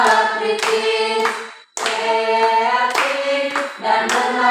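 An audience at a reading-interest session at SMA N 1 Botomuzoi in Nias claps in several bursts. The applause comes close and fairly loud, with a brief drop to near-silence between rounds.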